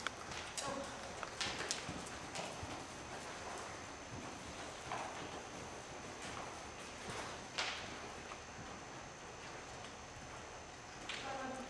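A ten-year-old Percheron mare walks forward, her hooves making a steady, soft clip-clop on the ground at moderate distance, under faint background rustle and occasional brief noises.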